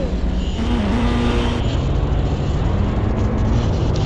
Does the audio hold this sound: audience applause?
no